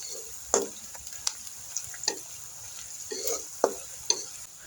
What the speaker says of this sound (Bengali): পেঁয়াজ রসুন এইটটি পার্সেন্ট ফ্রাই করে নিয়েছি